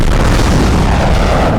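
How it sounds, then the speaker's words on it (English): A loud, continuous roar of a real film-set explosion shot at night in Croydon, thick rumbling blast noise filling the whole moment without letup. "blowing that up with a real explosion shot at nighttime"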